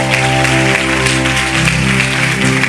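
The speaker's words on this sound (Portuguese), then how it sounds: "Vamos aplaudir o Senhor." Worshippers at a church vigil applauding, a continuous wash of clapping blended with sustained musical tones from instruments playing underneath.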